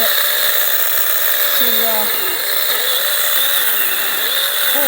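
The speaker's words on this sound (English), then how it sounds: "This is a powerful little saw." A small Sainlogic power saw cuts into a thick log with a continuous high buzzing whine that shifts in pitch under load, while someone talks over it.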